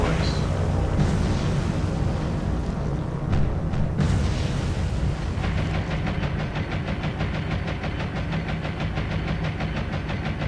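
Bombing explosions from the naval combat game War on the Sea, a dense continuous roar of booms and rumbling blasts that stays loud throughout, with a sharp burst near four seconds and rapid crackling afterward.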